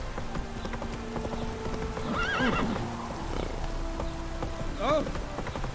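The horse Roach in the Witcher 3 game gallops with a steady clip-clop of hooves over falling rain and lets out two clear whinnies.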